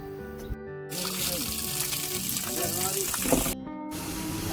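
An electric water pump motor is switched on and pumps water. A steady, close gush of flowing water carries an underlying hum, with a person talking over it and abrupt breaks near the start and end.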